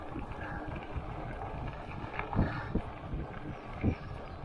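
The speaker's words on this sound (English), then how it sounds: "It's a little breezy, but actually it makes it kind of good for outdoor exercise." Breezy wind rushes across the microphone while riding a Lectric XP e-bike on the Mon River Trail, a low continuous buffeting with a few louder gusts and thumps.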